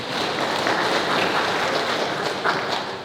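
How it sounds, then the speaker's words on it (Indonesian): Audience applause fills a roadshow event hall in Sukabumi, a dense, steady wash of many hands clapping at even loudness from start to finish. "Ada ya, tepuk tangan"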